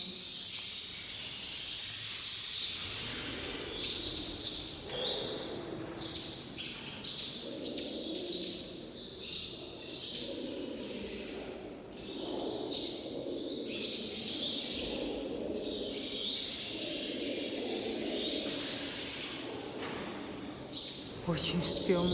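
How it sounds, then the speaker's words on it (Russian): Numerous birds chirp and call agitatedly, a dense and persistent chorus of high tweets and squawks spread through the air, with occasional people talking underneath. "Птицы сходят с ума, ребята."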